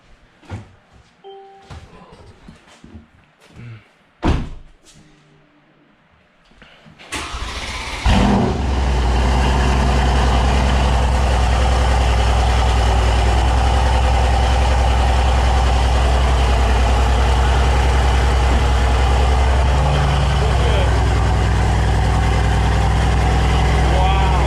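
A Mercedes C63s AMG fitted with catless downpipes fires up after a few clanks and brief voices, then settles into a loud, deep, steady idle that rumbles on without a break.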